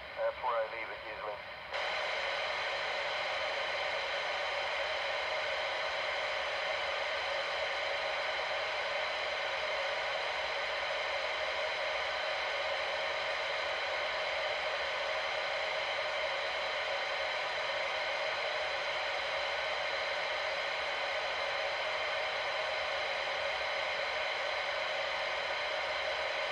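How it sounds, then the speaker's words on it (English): A CB radio hisses with a steady, loud wash of static that holds unchanged for nearly the whole stretch after a brief rough start. "I crank mine up to where you can start to hear the static"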